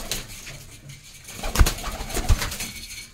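Punjabi Malwai pigeons coo softly and repeatedly close by, with a couple of sharper knocks or wing bumps in the middle.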